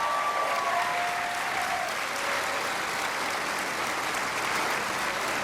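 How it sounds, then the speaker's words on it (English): A large audience at a state government address applauds school lunch staff, steady dense clapping filling the hall from start to finish, loud and continuous with no break. "Let's give them a round of applause."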